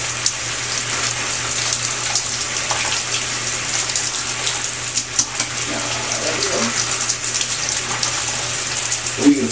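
A shower runs continuously in a small enclosure, a steady hissing spray of water with faint voices in the background and occasional splashes and knocks.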